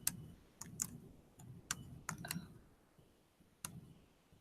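Keys on a computer keyboard click in a short irregular run as an answer is typed in, quiet and close, with sparse taps separated by brief pauses and no talk.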